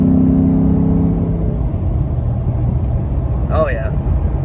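A tuned Ford F-150 truck with an OZ Omega tune accelerates hard, its engine note rising and then settling into a loud steady drone, with a brief voice near the end.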